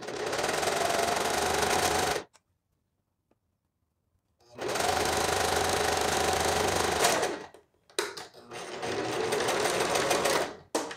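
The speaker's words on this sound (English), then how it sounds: "I'm just going to continue down, trying to unroll that selvage as I sew." Sewing machine stitching fabric while a selvage edge is unrolled and fed through to make a neck gaiter, running in three loud, steady bursts with short pauses between them, no talk.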